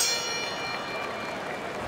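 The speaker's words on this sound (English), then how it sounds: "Final bell of a close fight." A bell rings once to end the final round of a close professional boxing match, and its bright ringing tone fades slowly over the low noise of the arena crowd.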